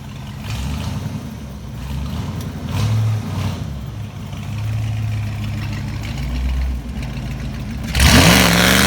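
A 1995 Ford Mustang GT engine idles with a low, steady rumble and a few brief swells of revving. A sudden loud, harsh burst comes near the end.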